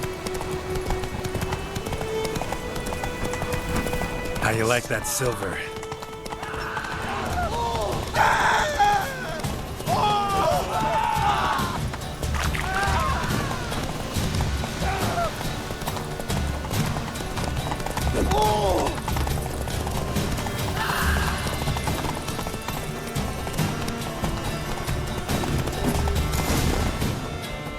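Roach, Geralt's horse in The Witcher 3, gallops with steady rhythmic hoofbeats close by, and a neigh and shouted voices mix into the game soundscape while someone speaks over the hooves.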